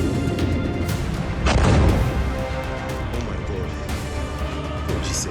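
Heavy booms and artillery-like blasts from a missile strike, recorded as war footage, with one loud, low, rumbling explosion near the middle standing out against a steady background roar.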